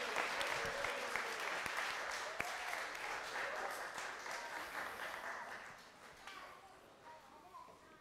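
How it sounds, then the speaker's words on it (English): Sustained applause from an audience at an awards ceremony for winners, a dense wash of clapping that holds steady then gradually thins toward the end. "Another round of applause for our winners."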